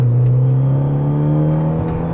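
A Fiat 500 Abarth with a 1.4L engine pulls hard under acceleration from inside the cabin, a loud, steady droning hum that climbs slowly in pitch.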